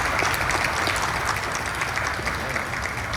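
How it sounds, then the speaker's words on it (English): A crowd gives Ensign Randhawa a round of applause at a US Navy commissioning ceremony, sustained and fairly loud clapping with no talk. "Let's get a round of applause."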